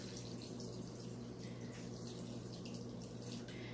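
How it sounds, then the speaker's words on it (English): A cup of water pours into a pebble tray set under a potted lemon tree, giving a soft, steady, low-level trickle and splash that runs the whole time over a faint background hum, with no talking. "And then we're going to put a cup of water in it."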